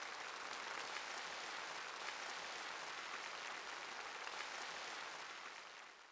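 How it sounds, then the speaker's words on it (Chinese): Sustained warm applause from a large audience in a great hall at the 19th CPC National Congress, a dense, even wash of clapping that holds steady and then begins to fade near the end. "习近平报告过程中，全场一次次响起热烈的掌声。"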